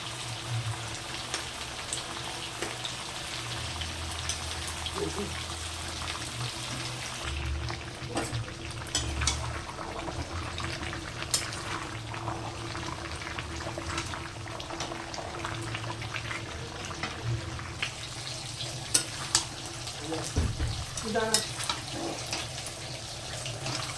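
Mutton fries in a pan with garlic, onion, ginger and spice paste, giving a steady hissing sizzle broken by occasional scraping and stirring, fairly quiet and without speech.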